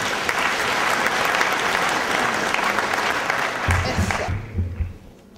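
A crowd applauds loudly and continuously at a formal back-to-school ceremony, then the clapping tapers off and a French-speaking voice briefly comes in as it fades.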